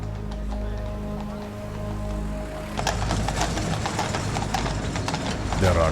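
Horses clip-clop at the Appleby gypsy horse fair, hooves striking hard ground in busy rhythmic beats over a low engine-like drone and crowd chatter, growing louder midway.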